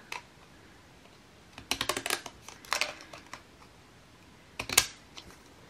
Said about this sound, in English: I'm just gonna cut the edge with my cute scissors.